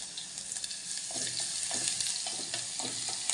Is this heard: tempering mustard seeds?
yes